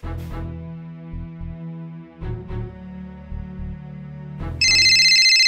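A mobile phone ringtone plays a loud, close melodic tune of repeated tonal notes, ending in a brighter, louder chiming phrase, with no talking.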